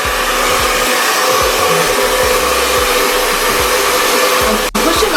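A hair dryer fitted with a diffuser runs steadily and loud while drying fine, low-density curly hair, a continuous close airflow roar that cuts out for a brief instant near the end.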